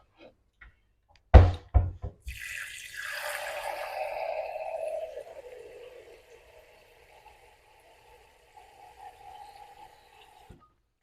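Tap water pours into a measuring cup after a sharp knock, a hissing stream that fills for a few seconds and then tapers to drips and quiet.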